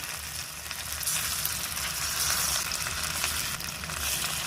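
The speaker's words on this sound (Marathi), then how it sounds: "हे दोन्ही बाजूने आपल्याला छान खरपूस असे तळून घ्यायचे" Slices of taro corm crisping in ghee on a griddle give off a constant, close-up hiss and crackle that stays even from start to finish. No one talks.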